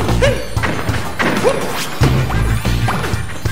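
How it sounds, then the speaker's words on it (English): Repeated heavy ground-pound thuds and crashes in Super Mario 3D World land every second or so, punchy and loud, mixed with swooshing effects and background music. "I'm trying to ground pound."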